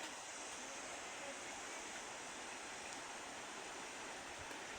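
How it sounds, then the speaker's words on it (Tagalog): The Umayam River flows through a Manobo settlement, heard as a continuous, even wash of rushing water with no clear breaks, steady and fairly faint throughout. "Yan ang Umayam River."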